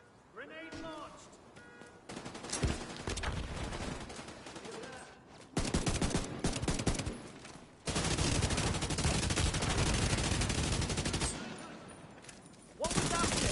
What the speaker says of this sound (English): Grenade launched.